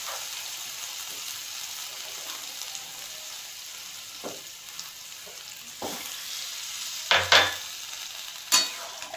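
Masala for an amudi fish and vegetable curry sizzles quietly in a pan after water is poured in, with a few sharp spatula scrapes and stirring clatters standing out near the end.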